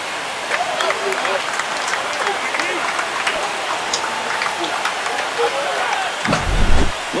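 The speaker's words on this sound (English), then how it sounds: "They're going nuts thanks to that home run." Stadium crowd roaring after a game-tying home run in an MLB NLDS playoff game between the Dodgers and Phillies, a dense, sustained wash of cheering with a louder swell near the end.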